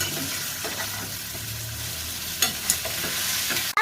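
South Indian blue crab curry fries in a pan while being stirred: a constant sizzle with scraping strokes and a few sharper clinks near the end, and no talking.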